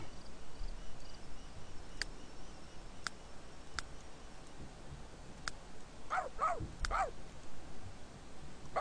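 A dog in The Sims 3 Pets game gives a quick cluster of three or four sharp, high barks near the end. Before them, a few faint isolated ticks sound over quiet background hiss.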